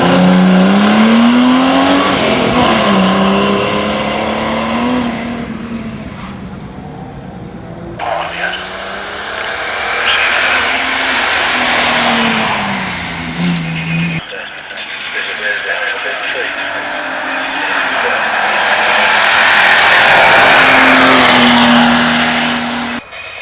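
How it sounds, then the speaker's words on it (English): A TVR Tamar race car at a hill climb start line at Loton Park, its engine droning and shifting pitch steadily throughout, fairly loud and close, with a commentator talking over it. "TVR Tamar is ready to go at the start line"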